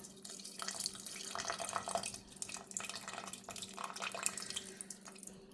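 Tamarind water runs and splashes steadily into a sambar pot for several seconds, close and fairly soft, with a brief lull midway before the flow continues.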